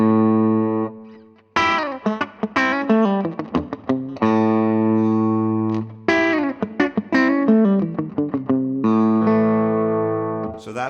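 Heavily distorted Telecaster electric guitar with a bright, cutting bridge-pickup tone, playing sustained chords and choppy riffs, loud and alone.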